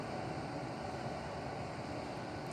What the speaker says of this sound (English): And just watch your train till it leaves the platform.